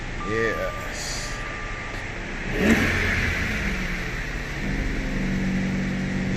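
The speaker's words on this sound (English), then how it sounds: "That is the sound of the air compressor kicking in." The air conditioning compressor kicks in on a 2007 Jaguar with the engine already idling. A low hum rises and settles beneath the steady motor, with a brief surge partway through, and voices talk nearby.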